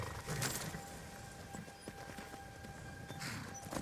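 Armored horse hooves trot in Skyrim, a rhythmic clip-clop of fairly close, distinct hoofbeats at a steady pace with no talking.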